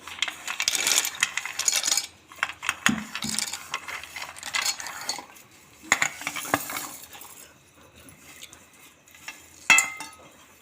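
Ingredients for a breakfast dish drop into a steel mixer grinder jar as a run of close, sharp metallic clinks and rattles in irregular bursts, with quieter pauses between them and no talking.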